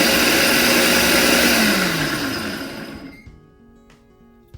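A Ninja blender whirs loudly as it mixes pizza dough ingredients and salt, a steady motor drone with a falling whine that winds down and stops after about three seconds.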